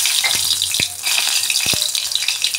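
A bay leaf dropped into hot oil in a kadai for tempering, giving a steady bright sizzle and crackle throughout, with a couple of soft clunks of utensils near the pan.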